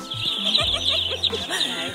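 Baby chicks peep in a store's chicken aisle, a dense chorus of high, thin chirps that runs continuously and close by, with faint voices and background noise beneath.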